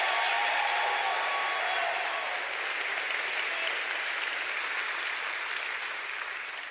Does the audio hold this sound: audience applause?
yes